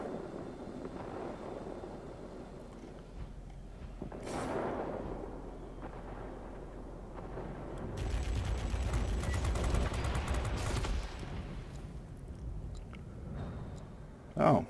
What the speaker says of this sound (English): Oh, he hit me with a rocket.